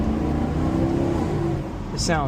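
A Maserati GranTurismo's engine revs loudly while being driven, a rising and falling engine note heard up close with someone talking over it and a brief higher squeal near the end.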